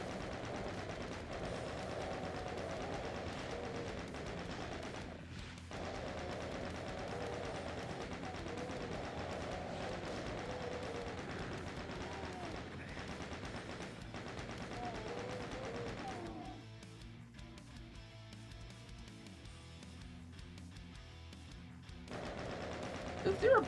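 Rapid, sustained chain gun fire in Ultimate Doom, a dense mechanical rattle that runs steadily for most of the stretch and then thins out near the end, with game effects layered underneath.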